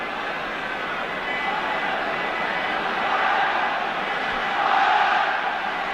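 Football stadium crowd at a 1984/85 Bayern Munich match against Everton, a dense, steady roar of many voices that swells at about the middle and again near the end, with no clear talk over it.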